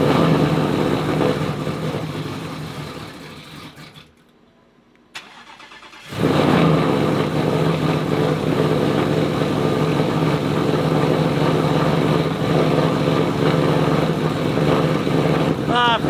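A car engine cranks and catches, then after a brief pause roars into a loud steady idle that carries on close by, with a voice speaking over it.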